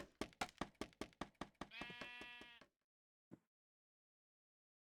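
In a Minecraft-style block-building game, a sheep bleats once in a short wavering cry, preceded by a quick run of rhythmic knocking taps. A faint thump follows, then near silence.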